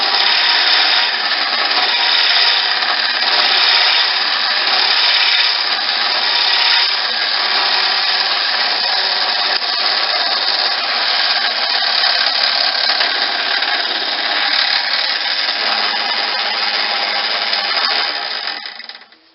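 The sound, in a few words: drill bit cutting a hole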